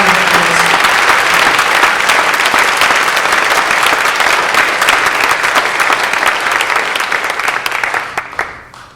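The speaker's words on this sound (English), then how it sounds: "She really deserves a round of applause." A large audience at a live folk concert claps loudly and continuously for several seconds, the applause holding steady before tapering off into a few scattered claps.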